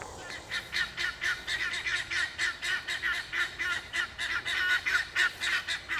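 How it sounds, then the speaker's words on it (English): Guinea fowl calling in alarm, a rapid, rhythmic run of harsh, repeated squawks at a steady pulse, moderately close and without talk. "I don't know how well the microphones pick up the guineas, but they're talking."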